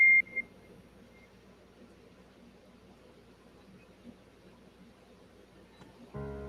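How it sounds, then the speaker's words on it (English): A short, bright phone notification ding sounds right at the start during a live stream, then a quiet room with low hum follows until a sudden noise at the end. "whose phone was dinging?"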